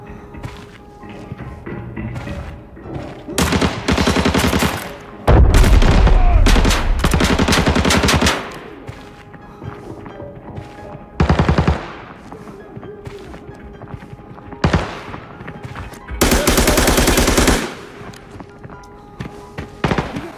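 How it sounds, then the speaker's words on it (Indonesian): Gunfire from a USAS-12 automatic shotgun in the game Arena Breakout, loud bursts of rapid booming shots in several clusters separated by quieter stretches. "Jangan ketahuan suara senjata gua"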